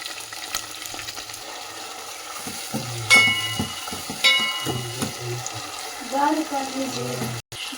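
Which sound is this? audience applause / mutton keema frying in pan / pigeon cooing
mutton keema frying in pan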